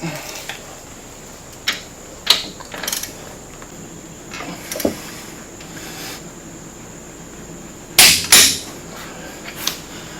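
A wrench torques the clutch primary on a Polaris RZR 900S while a pry bar holds it in place, giving sparse metallic clicks and ratcheting knocks, ending in a couple of sharper clanks near the end, close and unvoiced.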